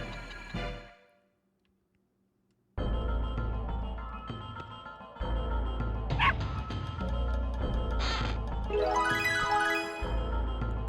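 A dog in the Legend of Dragoon video game gives short yips and whimpering barks, mixed with game music and effects after a brief silent gap; clear and moderately loud, no talk.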